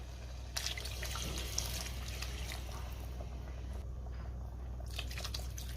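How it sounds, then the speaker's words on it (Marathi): Water poured from a glass into an eggplant and potato curry in a pot, a soft close splashing trickle with a few drips, fairly quiet and without speech. "आता आपण भाजीमध्ये पाणी घालूया."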